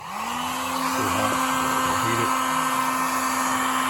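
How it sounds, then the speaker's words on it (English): Heat gun blowing steadily on its high setting while a hydraulic lift arm cylinder is rebuilt on a Bobcat MT52, a loud continuous whirring roar that ramps up at the start and holds, with faint speech underneath. "on this heat gun, are you using it like a low setting?"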